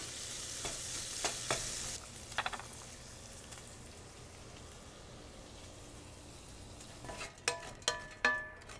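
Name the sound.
bacon frying in a skillet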